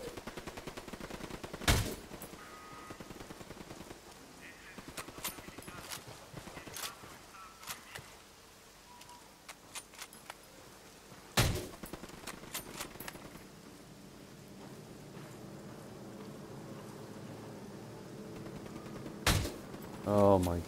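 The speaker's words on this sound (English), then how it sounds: "Shooting." Gunfire in the Ghost Recon video game comes as a few sharp, isolated shots spread far apart over a quiet, low background, with scattered faint clicks between them.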